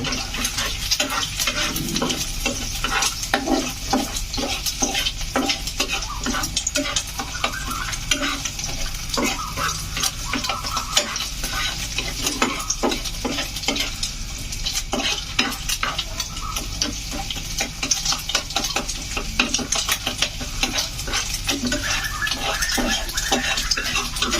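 Beaten eggs with salt are stirred in a hot frying pan: a spatula scrapes and clinks against the metal in a continuous busy rhythm over a steady close sizzle.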